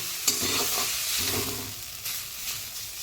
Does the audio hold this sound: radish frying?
yes